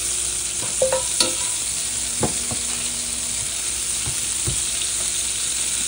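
Butter melting over very low heat in a pan while a utensil stirs it, giving a steady soft sizzle with a few light scraping taps, no talking.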